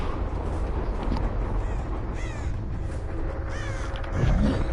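A crow caws several times in the horror video game Dead by Daylight. The harsh, close cries rise over a constant, rumbling game background, with no talk.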